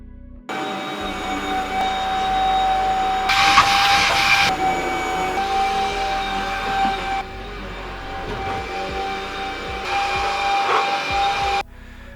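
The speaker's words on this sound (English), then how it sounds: "the trade-off is my wife does the ironing and I do the hoovering" A household vacuum cleaner hoovers indoors with a loud, steady whine and hum, surging louder in several bursts as it moves and cutting off abruptly at the end.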